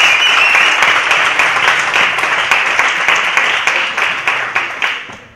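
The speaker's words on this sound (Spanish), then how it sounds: "Un aplauso, por favor." Applause from an audience at a university debate tournament, a dense, loud wash of many hands clapping steadily for about five seconds before fading out at the end.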